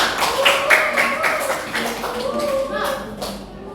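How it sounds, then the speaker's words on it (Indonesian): Students in a classroom applaud together during a lesson on transformers, a burst of fairly close, loud hand claps in quick irregular rhythm mixed with voices. "Tepuk tangan dulu untuk pekerjaan."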